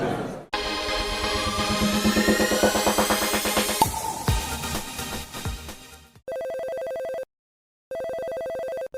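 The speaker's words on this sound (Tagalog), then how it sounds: "Uy, Sheena, may tumatawag sa cellphone mo." An incoming call sets a cellphone ringtone going near the end, two loud steady electronic bursts separated by a short silence, right after a busy swell of music and noise.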